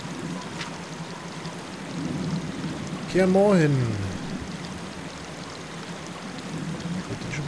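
A babbling brook in The Witcher game burbles as a steady, soft flow of water in the background, while a short voiced exclamation rises over it midway.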